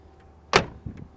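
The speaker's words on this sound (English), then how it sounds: "Doors open and close as they should." A car door on a 1969 Chevrolet Caprice with bucket seats and a console opens and shuts, giving one sharp, solid thunk followed by a softer latch sound, close up, with no talking.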